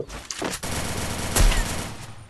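Gunfire from a sniper rifle in the shooting game Free Fire: several loud, sharp shots cut through a dense, noisy battle bed over a couple of seconds, with no talking.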